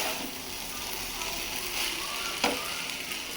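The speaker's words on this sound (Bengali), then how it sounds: "আর একটু হোক চুলার উপরে ভাজা ভাজা" Noodles fry on a stove with a soft, continuous sizzle and a single brief clatter partway through, faint and close.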